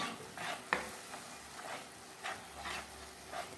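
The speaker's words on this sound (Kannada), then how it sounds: "ಸ್ವಲ್ಪ ಉಪ್ಪು ಎಲ್ಲವನ್ನು ಚೆನ್ನಾಗಿ ಮಿಕ್ಸ್ ಮಾಡ್ಕೊಳ್ಳಿ" A salted kappa sukka mixture of cassava is stirred in a pan, giving rhythmic scraping strokes roughly every second with a soft sizzle underneath and no voices.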